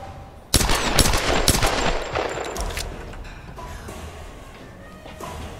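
Pistol fire in the 2013 Tomb Raider video game: a rapid cluster of sharp, loud shots crackles for about two seconds, then trails off into a lingering, fading rumble of in-game ambience.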